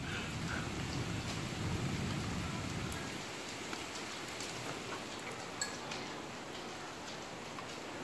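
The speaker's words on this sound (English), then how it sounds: "I think the majority of the storm's already passed us over now." Steady rain falling on surfaces as a storm passes over, heavier for the first few seconds and then easing to a softer, even patter, with a faint tick and no voices.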